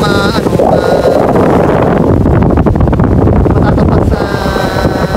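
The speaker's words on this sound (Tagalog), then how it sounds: "Kasi malakas po yung hangin yun." Strong wind roars and buffets the microphone steadily at a beach, with rushing water beneath it and a faint voice in the first and last moments.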